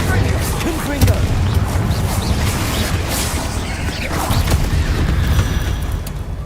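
Confringo blasting spells explode in rapid succession during a Hogwarts Legacy fight with spiders, loud and dense booms and crashes layered over a busy game soundscape.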